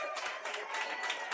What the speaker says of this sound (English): the junior Falcons getting the congratulatory applause for a heck of a season